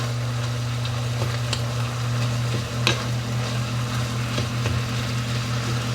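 A pot of Southwest chili with red bell pepper simmering and stirred on the stove, a soft steady sizzle under a low continuous hum, with a few scraping clicks of the spoon against the pot.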